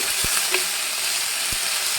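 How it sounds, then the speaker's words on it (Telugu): Mint leaves frying in a pan for a mint-coconut chutney, giving a steady close sizzle with a couple of soft thuds from stirring, alone with no voices. "పుదీనా కొంచెం పచ్చివాసన పోయేటట్టు వేయించుకోవాలి"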